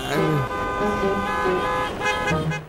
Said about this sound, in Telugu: అరే, ఏంటి ఇక్కడ ఇంత ట్రాఫిక్ గా ఉంది?